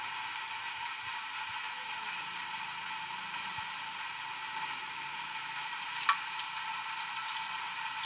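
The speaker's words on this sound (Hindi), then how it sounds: "हल्की आंच में फ्राई करना है इसको, ज़्यादा तेज आंच नहीं रखनी है, मीडियम आंच में करना" Bottle gourd pakoras in gram flour batter fry over medium heat with a faint, even hiss, marked by one brief click near the end.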